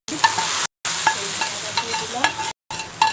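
Food sizzling and being stirred in a hot pan, for a jackfruit and hilsa fish dish, with steady frying hiss broken by two short gaps and light scraping strokes.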